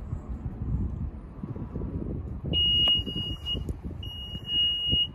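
A 2022 Nissan Rogue SL power liftgate gives two clear electronic beeps, a shorter one then a longer tone, over low wind rumble outdoors.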